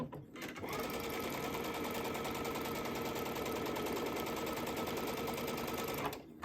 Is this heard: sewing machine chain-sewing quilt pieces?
yes